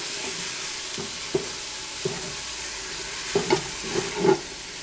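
Ground meat for albondigas cooking in a pan with onions, chorizo and garlic, a low steady sizzle broken by several soft scraping stirs, the clearest near the end.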